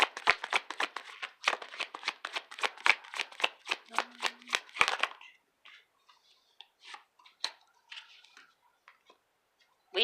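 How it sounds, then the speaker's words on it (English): Tarot cards being shuffled by hand, a rapid run of crisp riffling flicks for about five seconds, then sparser soft card slides and taps close by, with no talking. "Just have to organize my cards."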